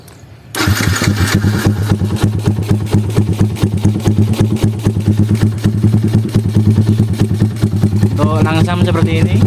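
Yamaha Jupiter MX motorcycle fitted with a Jhoe carbon muffler, starting up and then idling with a steady, rapid low putter that stays loud and close throughout.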